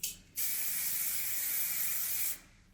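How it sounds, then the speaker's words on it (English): Hairspray hisses from an aerosol can onto freshly back-combed short hair in a salon, one steady burst of about two seconds, close and fairly quiet. "Just gonna spray that."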